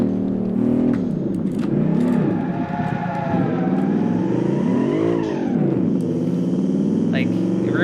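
A rear-wheel drive car with a solid axle rear end slides in the video game Automation, its engine revving and tires squealing in sweeping pitch swings while someone talks over it.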